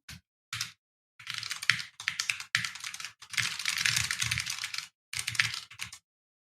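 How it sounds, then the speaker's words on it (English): Bursts of rapid clicky typing on a mechanical keyboard, close up, with short pauses between flurries of keystrokes. "I have a new mechanical keyboard, so nice."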